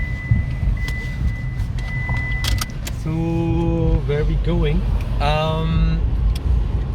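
Car interior while driving, with steady low engine and road rumble, keys jangling, and several people talking throughout.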